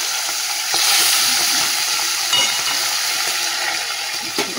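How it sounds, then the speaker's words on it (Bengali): Loud, continuous sizzling and crackling of fish frying in hot oil, with occasional stirring scrapes and no voices. "তেলও গরম হয়ে গেছে, আর মাছগুলো ভেজে নেব"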